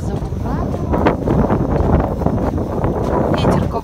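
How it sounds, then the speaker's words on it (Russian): Strong wind blows and buffets the microphone during a heavy snowstorm, a rough continuous roar with gusting surges. "Ветер какой."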